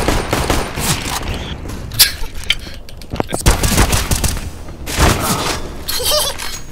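Loud, dense gunfire in Counter-Strike, rapid bursts and shots crackling almost continuously with brief lulls, close and harsh, with faint voices underneath.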